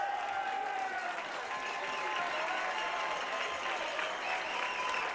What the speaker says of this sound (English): Wiedmeyer gets a standing ovation from the Saline crowd.